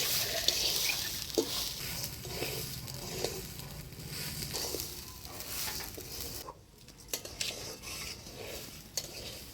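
Gobindobhog rice being stirred in a hot pan for basanti pulao, a scratchy rustling sizzle with repeated spatula scrapes and knocks, briefly dipping quiet before resuming, close and without talk.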